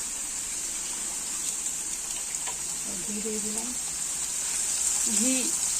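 Spices and dried chillies temper in hot ghee for khichuri, giving a steady soft sizzle and hiss throughout, with a few faint voices rising briefly under the frying.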